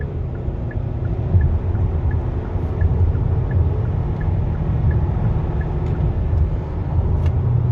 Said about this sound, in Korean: 이런 식으로 엔진 소음이 나면서